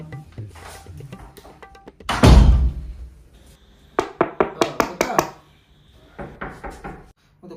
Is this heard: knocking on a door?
yes